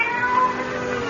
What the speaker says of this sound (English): the silence was broken by the faint crying of a cat.